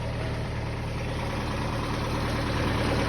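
A Toyota 4K engine idles steadily after its carburetor is reinstalled: a continuous low rumble with even mechanical hum, close and fairly loud, with no voices.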